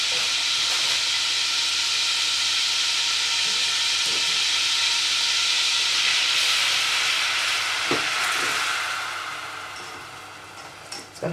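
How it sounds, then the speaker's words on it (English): Flour being stirred into melted butter in a pan for a white sauce, a loud continuous sizzling hiss that holds steady, then gradually fades in the last few seconds, with a faint clack of a utensil. "I'm literally gonna sprinkle in the flour, keep mixing it"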